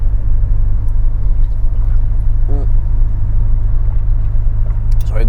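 Engine of a simple, boxy car pulling up, a steady low rumble that holds close and constant throughout, with a few faint higher sounds drifting over it.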